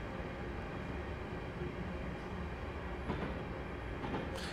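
A Class 350 electric train overtaking on the West Coast Main Line through the Trent Valley, a steady rolling rumble with a faint wheel rattle building toward the end.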